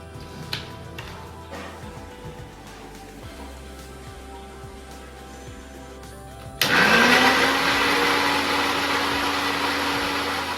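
A mixer grinder full of ginger, onion and water switches on partway through with a sudden loud whir. The motor quickly settles into a steady, close grinding roar after a quieter stretch of light background ticks.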